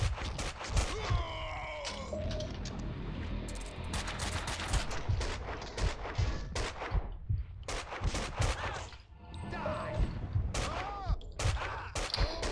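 Rapid bursts of gunfire from the Max Payne 2 video game, played on the Dead on Arrival difficulty, crack repeatedly across the whole stretch, loud and close, with scattered groans and effects between the shots and no clear speech.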